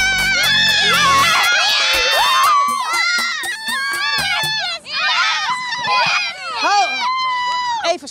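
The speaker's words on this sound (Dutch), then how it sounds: "Dit is natuurlijk belachelijk overdreven, dit enthousiaste geschreeuw." A group of children screams and shouts enthusiastically for about eight seconds, loud, close and continuous, with high rising and falling yells that overlap during a Dutch kids' television show.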